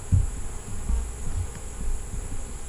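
Honey bees buzzing at a beehive in July, a close, steady low hum with pulsing wingbeats and occasional louder passes near the microphone, with no voices.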